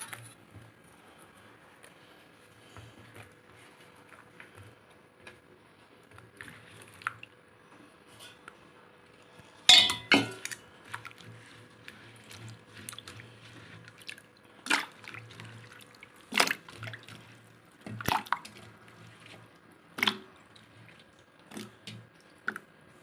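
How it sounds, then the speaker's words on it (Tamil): Cut pieces of elephant foot yam rinsed in a bowl of water, with quiet, scattered drips, squishes and small splashes as the pieces are handled. "இப்போ நாம் இந்த கட் பண்ண கருணக்கிழங்கெல்லாம் எடுத்து தண்ணியில் போட்டு அலசிக்கலாம்"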